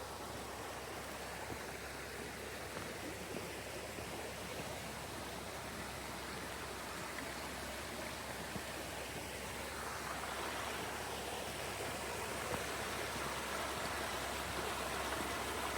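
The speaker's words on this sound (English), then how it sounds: "Here's some more water running over here." Creek water running over rocks in a nature preserve, a steady broadband rushing and splashing that stays constant and fairly close throughout, with no talking.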